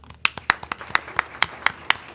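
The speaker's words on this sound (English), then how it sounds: "we applaud you" A single pair of hands claps steadily at a school board meeting, about four claps per second, sharp and close, with no crowd around it.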